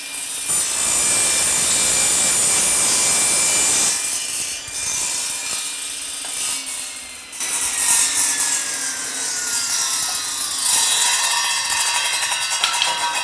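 A table saw with a crosscut sled cuts steadily through wood with a loud, continuous rasping whine, pausing briefly before a second pass. No voices.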